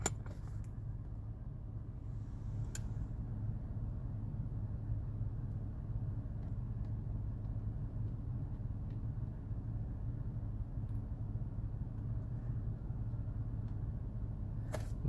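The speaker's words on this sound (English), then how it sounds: "Now I'm going to drive in a circle." A car is driven in a full circle, giving a steady low engine and road rumble that holds at an even level throughout, with faint ticks and no talking.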